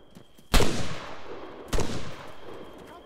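Covering gunfire in Arma 3: two loud, sharp gunshot bursts about a second apart, each followed by a long rolling echo that fades under a faint steady tone.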